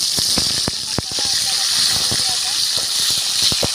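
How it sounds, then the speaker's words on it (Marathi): Masala spices dropped into hot oil with browned onions on a wood-fired stove for a village chicken curry, hissing steadily with frequent sharp crackles and pops while a voice talks over it. "आता आपण हा मसाला टाकून घ्यायचा आहे आपल्या तेलामध्ये"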